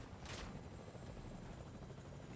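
A helicopter in the video game Fortnite, a faint, steady whirring drone throughout with a brief sharp crack near the start.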